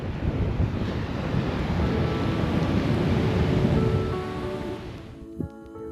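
Strong coastal wind on the Western Australia shore near a pink lake, roaring steadily with crashing surf beneath and buffeting the microphone, loud and continuous before easing slightly at the end.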